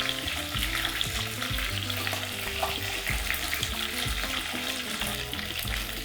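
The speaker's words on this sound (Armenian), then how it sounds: "յուղը չցայտի, երբ բդիկները տապակվում են, վրան ցանց կդնենք այսպես" Mushrooms frying in oil in a pan, with a steady loud sizzle and crackle running throughout, occasional stirring clatter and low kitchen noises underneath.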